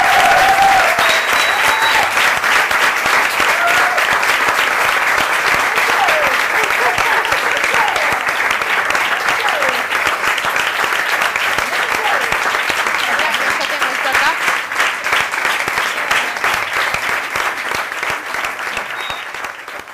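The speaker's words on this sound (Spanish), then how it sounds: "Quiero pedir un fuerte aplauso" An audience welcomes a guest onto a talk show stage with loud, sustained applause that carries for the full twenty seconds, a dense wash of clapping and crowd noise that eases only slightly toward the end.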